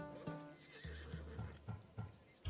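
A horse in the video game Assassin's Creed Odyssey gives a short, quiet whinny, followed by a few soft, evenly spaced hoof clops.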